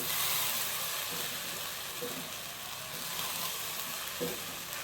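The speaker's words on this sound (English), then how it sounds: "Now I'll mix the rice with the veggies." Rice and vegetables being stirred together in a hot frying pan, with a steady close sizzle and hiss and occasional soft scrapes of the spoon.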